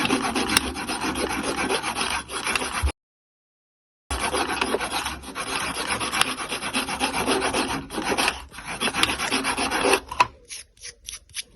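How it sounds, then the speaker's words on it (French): An Opinel Albertville 1992 knife blade is sharpened during a restoration: close, dense rasping strokes run steadily, break off for a moment, resume, then end in a few separate short scrapes. "il faut penser à bien affûter toute la lame"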